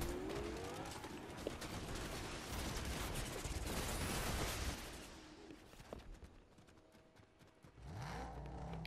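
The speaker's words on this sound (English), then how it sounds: "I'm literally shooting." Gunfire in a shooter video game, a dense, busy burst of shots and clatter for about five seconds before thinning out into quieter, scattered game noise.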